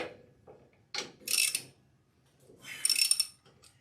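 A ratchet is tightening a cross-threaded bolt on a flail mower, giving two short bursts of close, dry clicking separated by quiet pauses, with faint handling noise between.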